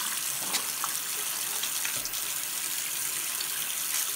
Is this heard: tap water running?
yes